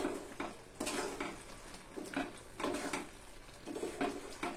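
Ground spices get stirred into mango pickle in a pot, a spoon scraping and knocking against the metal in slow repeated strokes over a soft sizzle, with no voices.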